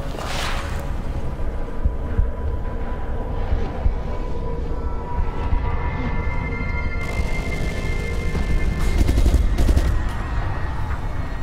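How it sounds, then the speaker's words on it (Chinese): Rapid gunfire from attackers bursting into a lab facility in the video game Resident Evil Revelations 2, dense overlapping shots in a steady loud barrage, with a heavier cluster of blasts near the end. "突然一堆疯子冲进来开枪，"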